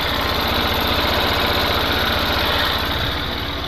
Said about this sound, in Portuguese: o motorzinho dela na lenta